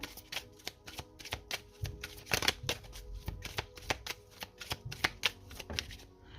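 Oracle cards are shuffled close up in a run of crisp, irregular riffling slaps and flicks that repeat for several seconds, fairly quiet, with no voices.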